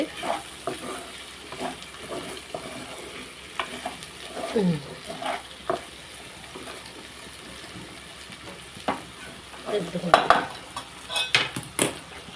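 Okra (bhindi) frying in a pan for a Telugu home-style bendakaya fry, with a steady close sizzle and scraping stirs, louder bursts of spatula clatter around the middle and end, and some faint speech.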